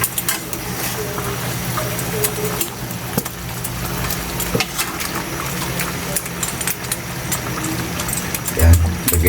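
Pork cooked with bagoong being stirred in a cooking pot, a steady clatter of a utensil scraping and knocking against the metal with soft wet sizzling, while a person talks throughout.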